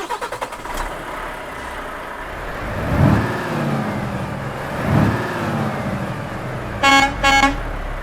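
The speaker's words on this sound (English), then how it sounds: "Let's go ahead and get this FH Volvo started up and get on the road." A 2022 Volvo FH Globetrotter truck engine in Euro Truck Simulator 2 starts with a brief clatter, then settles into a steady rumble with two swelling revs. Two short horn-like tones sound near the end.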